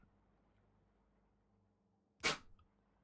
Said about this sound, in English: he did sneeze. That's what happened. He did a big sneeze.